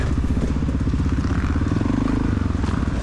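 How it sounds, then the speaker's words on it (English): A 1993 Honda XR600R single-cylinder dirt bike at an ice race, its engine a loud close throbbing thump with rapid regular firing pulses, steady and rough throughout. "I'm riding a 1993 XR 600R."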